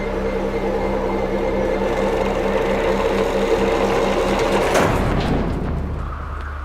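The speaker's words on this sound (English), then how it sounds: "the character watches as the machine revs up to life before sending out a sticker" A cartoon sticker machine whirs up to life with a loud, steady mechanical buzzing that builds, then cuts off with a sharp thump and a lower rumble near the end.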